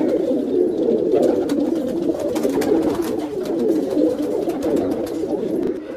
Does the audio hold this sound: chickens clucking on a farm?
no